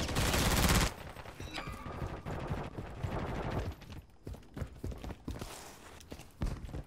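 DG-56 rifle firing in MW3, a loud burst of rapid shots at the start, then quieter scattered pops and footsteps in the game mix.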